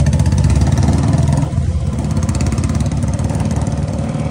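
Hero Splendor motorcycle fitted with a Bullet-style silencer, its exhaust thumping in a loud, rapid, steady beat that dips briefly mid-way before carrying on, with no talk over it.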